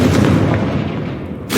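A Confringo blasting spell explodes in Hogwarts Legacy inside a cave, a loud sustained booming rumble that fills the space for over a second before a fresh burst near the end.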